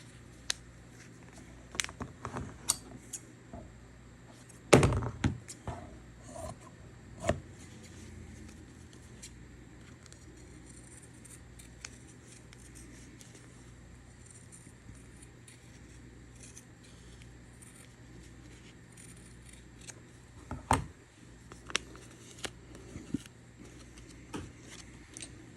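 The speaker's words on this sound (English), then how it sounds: "And then I'll cut this one out too." Scissors snip through fabric while cutting out Easter egg shapes, with a cluster of crisp cuts near the start, quieter handling in between, and another burst of snips toward the end.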